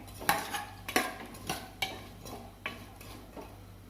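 A spoon scrapes and knocks in a pot while salt, turmeric and chili powder are stirred into a curry, giving about six sharp clinks at an uneven pace under a low background hum, with no talking.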